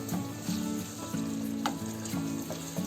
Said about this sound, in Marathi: आता हे लोणचं आपण टाकलंय ना ते चांगलं आता ढवळून घ्यायचं त्याच्यामध्ये